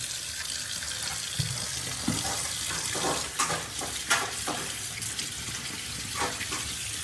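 Mud-covered crabs being washed by hand in water, with splashing, sloshing and stirring sounds and occasional louder knocks as the shells are scrubbed.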